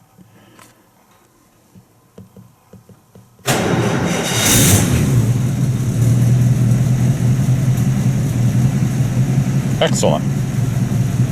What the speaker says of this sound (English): Let's see if we can get her started up.